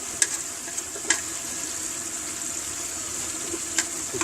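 Dry spices and red chili frying in oil for chicken biryani, a soft, steady sizzle with a few sharp clinks of a utensil against the pot.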